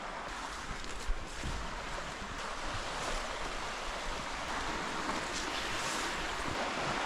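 Steady rushing water of a rain-swollen river flooding a forest trail fills the whole clip, a broad continuous roar flowing fast, with a faint breathy wind texture and no voices.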